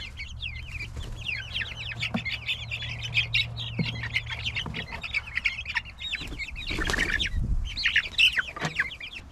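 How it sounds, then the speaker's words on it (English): Chickens cluck and squawk in a raised steel garden bed used as a temporary brooder, with overlapping close calls and a low hum that stops partway through. "I have 2 of those and 13 female chickens."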